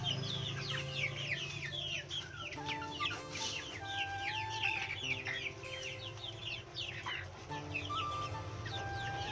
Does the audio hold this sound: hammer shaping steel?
no